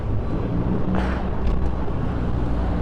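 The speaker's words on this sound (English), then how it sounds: "It's not a tram, it's a car." A car drives past on a city street, a steady broad road rumble with wind buffeting the microphone and a brief swell as it goes by.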